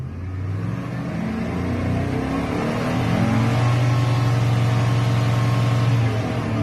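A Chevrolet Silverado 2500 with a swapped LQ4 V8 revs up from idle and holds a loud, steady high-rpm drone with a humming whine. The engine sounds close and runs alone with no talking.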